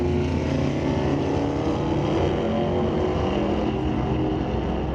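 Drag race cars, including a Camaro, launching side by side at an NHRA Canadian Sportsnationals meet, a loud steady engine roar sustained throughout with no break.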